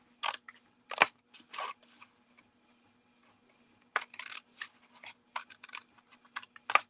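Scissors snip through card pieces for a gatefold card in two close bursts of crisp cuts, a rapid cluster near the start and another after a short pause, with no talking.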